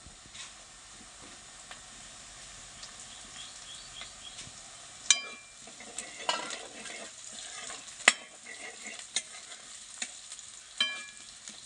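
Onions and chillies fry in a pan as a steady soft sizzle, with sharper crackles and pops breaking through every second or so, the spitting growing more frequent toward the end.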